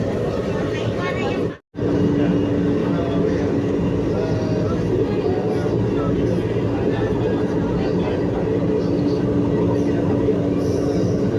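Inside an MRT metro train in Manila, arriving at Guadalupe station, a loud steady rumble of wheels and carriage fills the scene with a faint whine, broken by one brief cut near the start; voices talk over it.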